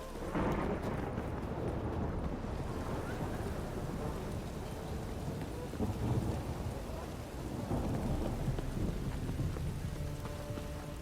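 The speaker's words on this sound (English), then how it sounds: "A storm, damn it." A heavy thunderstorm with steady rain and deep rolling thunder in The Witcher 3: Wild Hunt, loud and continuous throughout with no voices.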